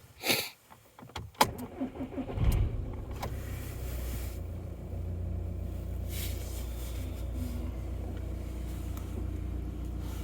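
A Volkswagen Passat B6 engine starts with a few clicks and a short cranking burst, then settles into a steady low idle hum heard from inside the car.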